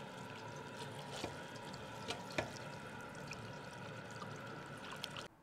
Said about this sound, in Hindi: इसको स्ट्रेनर में शिफ्ट कर देंगे और खुले पानी से अच्छे तरीके से 3 से 4 बार इसको वॉश कर लेंगे ऐसे।